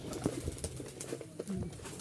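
Pigeons kept for flying coo softly in short, scattered calls, with faint wing flutters and light background noise, heard close by at low volume.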